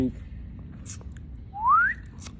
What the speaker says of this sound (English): hold on, let me get my whistle right.